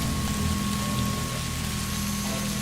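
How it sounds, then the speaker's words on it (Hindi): Steady, dense rain pours without pause, a constant hiss of drops hitting surfaces with a low rumbling undertone throughout. "ये कैसी रात है, बारिश रुकने का नाम ही नहीं ले रही।"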